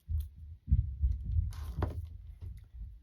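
Muffled thumping of children aged six and eight running around in another room, a low irregular pounding stampede with a few sharper knocks, faint and in the background.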